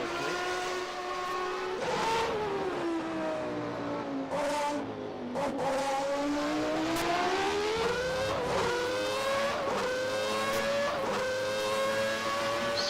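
Race car engine in a Formula One style racing video game at the British Grand Prix, climbing steadily through the gears with repeated rising whines and brief dips at each shift, loud and continuous with no talk.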